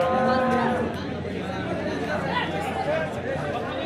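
Cattle, including Jersey, HF and Gir cows, low loudly up close at a busy cow market in Varkhedi, with a crowd of people chattering and talking throughout.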